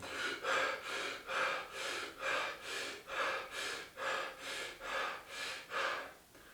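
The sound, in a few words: panicked clavicular breathing into the shoulders and chest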